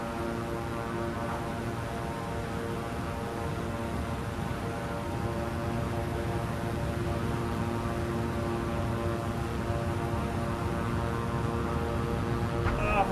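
A Beechcraft King Air in a flight video game runs at full takeoff power on a short runway. The engine and propeller drone stays steady and loud throughout, with a harmonic whine and no voices.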